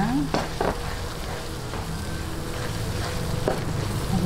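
Onions and chili sautéing in butter in a pan for spicy butter garlic mussels, a steady close sizzle with a few stirring scrapes of a utensil across the pan.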